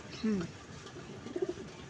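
A pigeon gives a couple of soft, low coos, faint and close, with a quiet murmur of background noise.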